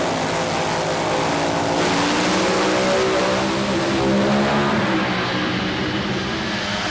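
Drag race cars roar down the strip at an NHRA O'Reilly Spring Nationals event in Houston, a loud, sustained engine howl that holds steady over several seconds and climbs slightly in pitch before easing off near the end.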